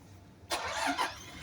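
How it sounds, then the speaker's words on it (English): A 2020 Toyota Hilux pickup engine cranks and catches abruptly, then settles into a steady run, heard fairly quietly and without voices. "Without much ado, here is the engine."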